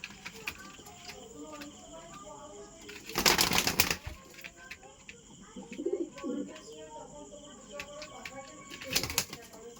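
Pigeons kept for sale coo softly and continuously, broken by two loud bursts of wing flapping, with someone speaking nearby.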